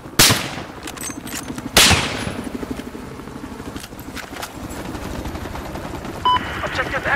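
In the video game Battlefield 4, two sharp, loud gunshots crack early on over a steady helicopter rotor drone, followed by softer scattered pops and a mechanical hum in the background.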